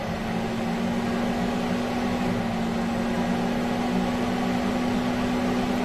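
A Fantastic Fan roof vent fan with a pulse width modulator speed control runs at full speed, giving a steady, loud whirring drone with a constant hum that holds unchanged from start to finish.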